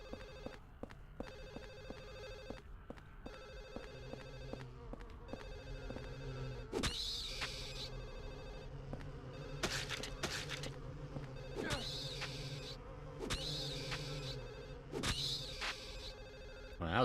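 Old-fashioned telephone ringing inside the horror game Silent Hill 4, repeated trilling bell bursts over a low ambient hum with scattered clicks, echoing evenly as if filling every room.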